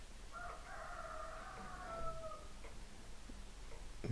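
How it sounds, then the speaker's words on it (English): A rooster crows before dawn at 4:30 a.m. among the chickens: one long, drawn-out call at middling distance over a quiet background, followed by a few faint clucks and soft knocks. "it's just 4:30 a.m. right now, so the chickens are out."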